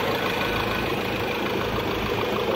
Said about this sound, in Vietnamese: máy nổ êm